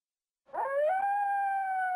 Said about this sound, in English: Chase away the dogs